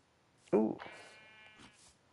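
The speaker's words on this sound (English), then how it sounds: "baby donkey." A baby donkey in Minecraft Bedrock Edition gives a short, loud bray at close range, followed by softer trailing calls over a quiet game backdrop.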